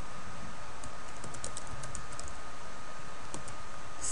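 Typing on a computer keyboard while writing SQL, with steady close clicks and clacks of keys running continuously and no voice.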